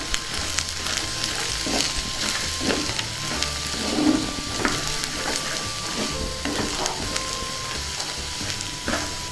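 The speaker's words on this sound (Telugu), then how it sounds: "దీన్ని ఒకసారి బాగా కలుపుకుందాం." Elephant foot yam (kanda), fried and powdered, sizzles steadily in a pan while being stirred, a continuous crackling fry broken by soft scraping stir strokes, close and fairly loud throughout with no talking.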